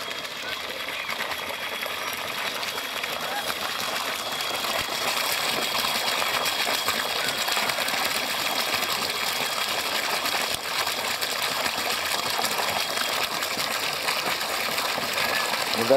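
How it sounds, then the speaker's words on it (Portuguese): Water rushes steadily at the edge of a fishing lake at a pesqueiro in Ipuiúna, Minas Gerais, a constant bright hiss of flowing water, close and even, swelling slightly louder toward the end. "Escuta o barulho dessa água aqui,"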